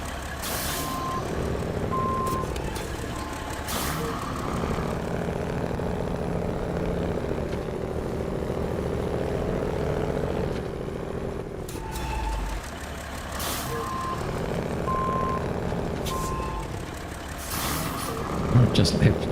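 A Kenworth truck driving in the video game SnowRunner, its engine droning steadily with repeated reversing beeps and air brake hisses, and a voice talking over it at times.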